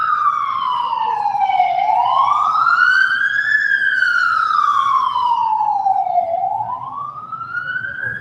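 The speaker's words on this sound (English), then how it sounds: "There's some sirens going on." A loud emergency vehicle siren passes outside, its wailing tone sweeping slowly up and down in long smooth cycles over roughly eight seconds, with low traffic rumble underneath.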